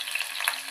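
Brief, bright sizzle as onion goes into chillies already frying in a pan for a radish-leaf bhaji. A close, even hiss with a few crackling pops, and no voices.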